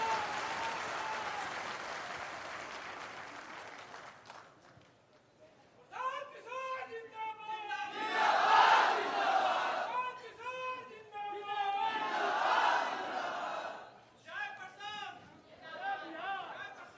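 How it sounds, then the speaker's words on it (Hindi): An auditorium audience in Patna breaks into applause and cheering for Prashant Kishor at a Jan Suraaj digital wing meeting; after a brief lull the clapping swells in several loud waves mixed with crowd chatter. "तालियों की गड़गड़ाहट के साथ"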